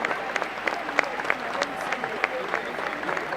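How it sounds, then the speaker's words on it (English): Spectators at an indoor hockey tournament applauding sponsors, a moderate steady patter of many hands clapping with individual claps standing out, no speech over it. "If you could give a round of applause to those sponsors, please, ladies and gents."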